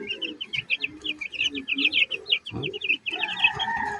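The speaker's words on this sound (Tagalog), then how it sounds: "nakakasampung araw na ang mga manok simula ng pagkapisa" Ten-day-old chicks chirping in a dense chorus of rapid high peeps, close and continuous, with a person's brief exclamation and a few low sounds mixed in.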